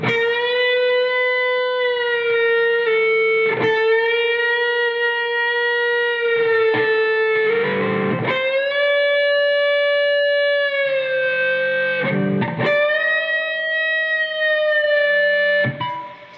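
Electric guitar slowly playing the first two parts of a song, sustained distorted notes sliding between pitches with brief pauses, loud and close, no talking.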